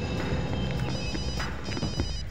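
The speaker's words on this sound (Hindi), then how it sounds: "सर, घंटी बज रही है।" A telephone rings with a steady electronic tone over a dense, noisy background, continuing for a couple of seconds with no one speaking.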